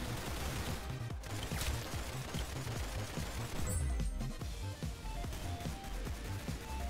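Rapid, dense gunfire from the Roblox game Arsenal rattles in continuous bursts, layered shots and impacts overlapping at a fairly low, even level.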